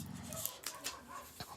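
Dogs across the street give faint, distant barks and yips over a low background hiss, scattered loosely rather than in a steady rhythm.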